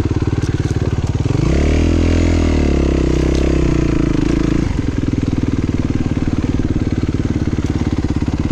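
Loud dirt bike engines on an enduro trail climb near Velvento, Greece, revving hard with a rising, sustained roar before dropping back to a rough, steady idle-like chug close to the microphone.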